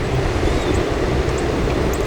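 Mallard and pintail ducks flushing at an opening-day duck hunt, their massed wingbeats making a steady, loud, plane-like roar that fills the whole stretch without a break.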